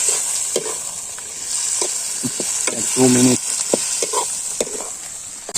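Pork with tomato and potato frying in a pan, a soft steady sizzle running throughout with occasional stirring clinks and a short burst of clatter near the middle, and a voice speaking briefly at the start.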